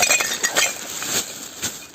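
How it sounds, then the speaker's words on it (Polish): Pieces of glass, some broken and wet, clinking and chinking together as they are packed into a sack, a few sharp close taps over a light rustle. "Całe szkło, jakie tutaj jest, pakuj do tego wora"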